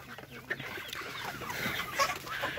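Black hens and other chickens cluck in a busy poultry yard, a continuous murmur of overlapping clucks and squawks at moderate distance, with faint voices mixed in.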